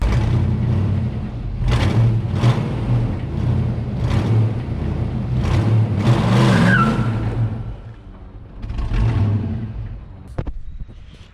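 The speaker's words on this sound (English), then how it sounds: "I wonder if I can now do burnouts with it." A Gambler off-road buggy engine revs hard in repeated surges while attempting a burnout, with a rear drivetrain that has been making a horrible noise; loud and close, rising and falling over several bursts before dropping off to a lower rumble.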